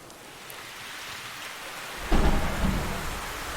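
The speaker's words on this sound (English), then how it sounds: "Give me some heavy rain." Heavy rain hisses in the Stormworks video game, then a loud, close rumble of thunder breaks in midway and rolls on beneath the downpour.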